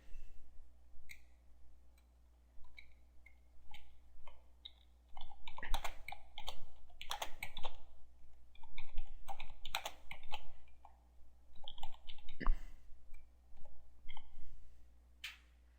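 Typing on a computer keyboard during a WordPress setup, irregular quiet clicks at first, then denser bursts of keystrokes in the middle, close and with no voices.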